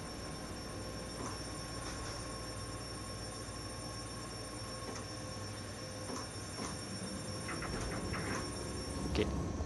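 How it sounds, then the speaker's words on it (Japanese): Eizan Electric Railway train from a train video game, pulling into a station on the Kurama Line with a steady rolling rumble and faint clicks, growing slightly louder toward the end. "電車も来たね。"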